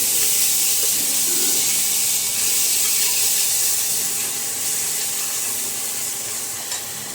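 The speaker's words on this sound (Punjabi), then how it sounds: "ਮਸਾਲੇ ਸਾਡੇ ਚੰਗੀ ਤਰ੍ਹਾਂ ਭੁੰਨ ਹੋ ਗਏ" Spices roasting in a pan for a black chickpea and potato curry, a steady broad sizzle and hiss running throughout with faint stirring scrapes, close and even, with no voices.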